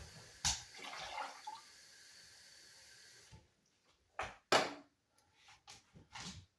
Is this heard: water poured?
yes